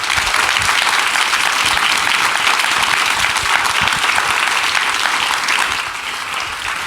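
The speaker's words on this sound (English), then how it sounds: "Round of applause." Audience at a festival panel on women investing in women bursts into loud, sustained applause, a thick wash of many hands clapping close and steady before easing off near the end.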